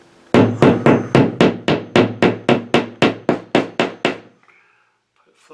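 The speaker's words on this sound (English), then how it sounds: "I'm just hitting with the hammer and just pounding them in straight." A hammer strikes repeatedly in a fast, even rhythm, pounding drywall anchors into a bathroom wall, about a dozen solid knocking blows up close, then stops.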